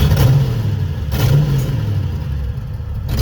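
Junkyard Fox body car engine idling close by, a steady low rumble with small surges in revs and some clatter, no one speaking.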